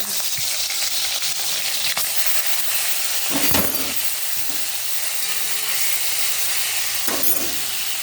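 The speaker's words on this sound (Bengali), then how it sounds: "সেই মাছটা আগে ভেজে নিই।" Fish marinated in salt and turmeric frying in hot oil, a loud, steady close-up sizzle with occasional sharper spits and bursts of crackle, no one speaking.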